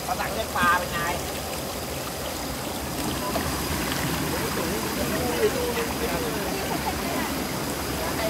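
Water pours down at Phlio waterfall in a broad, steady rush that fills the whole scene, with a few faint voices briefly audible beneath it.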